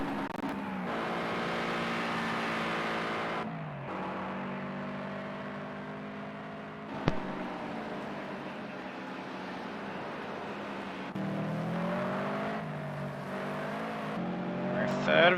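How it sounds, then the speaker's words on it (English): Toyota 86 race car engines in the Project CARS racing game at Fuji GP drone and whir steadily, with tone shifts as cars rev and pass, one sharp click midway, under a commentator's voice. "Still hear an engine idling off to the side."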